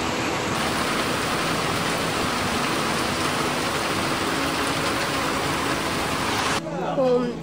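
Heavy rain pours down in the hills of Kodaikanal as a steady, loud, even hiss that holds for several seconds before cutting off abruptly near the end.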